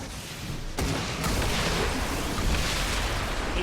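Explosion in the XCOM 2 video game following a grenade, a sustained dense rumble of blasts and crackling gunfire-like bursts that begins with a sharp hit and stays loud throughout.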